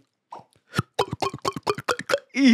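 Beatboxer's mouth imitating gulps of drinking water: a quick run of about ten wet, plopping clicks in an uneven rhythm, close and fairly loud, ending in a short sustained vocal tone.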